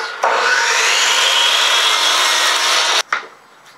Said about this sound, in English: we got the miter saw set for 10 degrees